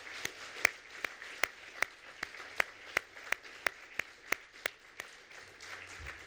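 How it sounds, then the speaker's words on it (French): A small gathering at a CFDT Services federal national council in Metz claps for an adopted motion: a soft bed of applause punctuated by regular, evenly spaced sharp claps, like a rhythmic beat, running the full length. "On peut applaudir cette motion d'actualité."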